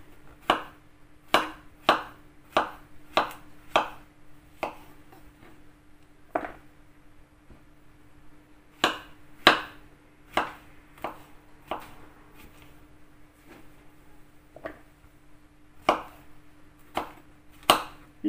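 A knife chops ingredients for chicken mushroom noodles on a board: crisp, close knocks in quick runs of several strokes, with short pauses between bursts.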